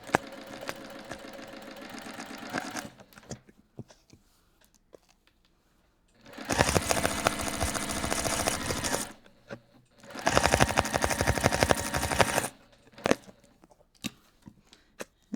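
A sewing machine stitches a quarter-inch seam on fabric I Spy bags in three loud, fast, continuous bursts, each several seconds long, separated by quiet pauses with faint handling clicks.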